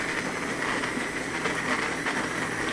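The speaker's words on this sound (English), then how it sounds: "So then, take my trusty Braun mixer." A Braun hand blender purees simmered heirloom tomato rice soup with its skins and vegetables in a pot, producing a continuous even whirring drone at steady loudness with no talking.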